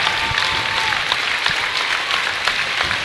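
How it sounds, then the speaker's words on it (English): A basketball crowd at a high school boys game applauds steadily, with dense continuous clapping and some cheering spread through the gym, loud and sustained throughout. "As everyone stands and applauds"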